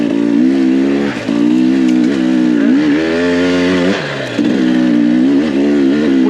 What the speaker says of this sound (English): This slow technical type riding is what these two strokes are built for.